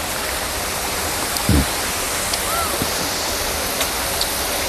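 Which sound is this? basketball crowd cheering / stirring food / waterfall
waterfall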